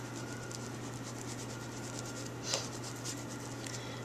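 Steady, soft scratchy rubbing of a baren burnishing paper over an inked chipboard print, a continuous close friction texture with faint periodic strokes and one brief tap, over a low hum.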